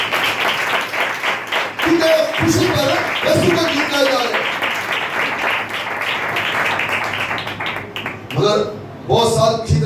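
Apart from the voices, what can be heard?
congregation clapping loudly for Jesus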